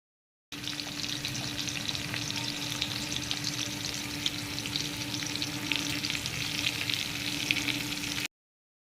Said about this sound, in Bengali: চলো আলুগুলো আগে ভেজে নিই।